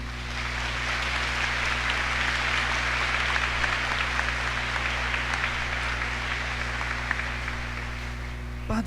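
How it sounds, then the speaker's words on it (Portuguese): A church congregation applauds during a Holy Thursday foot-washing Mass, a dense, sustained wash of clapping from many hands that holds steady the whole time over a low hum, with no voice. "Batam palmas por isso."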